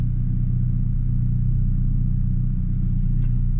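A Hyundai Avante N in normal mode, poised to launch at 40 km/h onto a slalom course, gives off a loud, steady, deep engine rumble that holds throughout.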